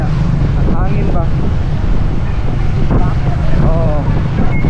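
Steady, heavy wind rumbles and buffets the microphone throughout, with a voice speaking briefly over the roar.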